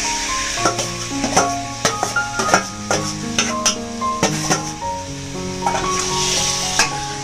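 Mashed brinjal and tomato fry with onion and spices in a pan, a steady close sizzle broken by repeated scraping stirs and light spoon knocks against the pan, with no voices.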